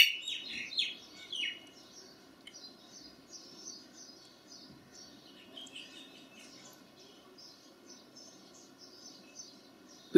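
Birds chirping and calling at dawn as the sun rises, a bright burst of close tweets at the start, then scattered fainter calls over a soft insect-like hum.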